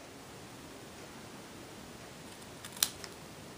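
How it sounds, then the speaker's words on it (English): Scissors cut paper to form a flag tail, one quick crisp snip and a faint follow-up over quiet room hiss, with no one speaking. "to make the little flag tail, I just took my scissors,"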